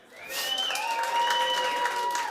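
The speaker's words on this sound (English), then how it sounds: "big applause for everyone" Audience at an Interop Summit 2023 speedrunning developer challenge claps for a contestant, a soft applause wash that swells in and holds, with a faint whistle-like tone running over it.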